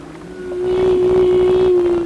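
Whale songs underwater: a sustained tonal moan holds steady and swells in loudness through the middle of the clip, with layered harmonics over a low rumbling background. No voices are heard.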